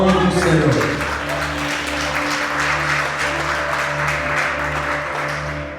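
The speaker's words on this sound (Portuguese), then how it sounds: "E você que crê nisso, aplauda o nome do Senhor." A church congregation applauds in a steady wash of clapping over a sustained low organ or keyboard chord, with a voice speaking at the very start.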